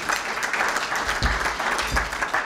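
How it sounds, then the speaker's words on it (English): An audience at a community event applauds in a steady, moderate wash of clapping that runs the whole time, heard from a short distance with no talk over it. "oh, you guys didn't applaud."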